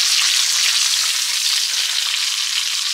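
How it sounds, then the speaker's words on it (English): Bacon pressed down in a pan to crisp it produces a loud, dense, continuous sizzle with no voices over it. "I like my bacon really crispy, so I do kind of press it down"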